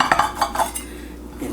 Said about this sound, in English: Sorry about the knife on the plate.